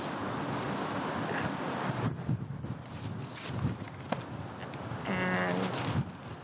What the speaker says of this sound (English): We are fighting the wind today a little bit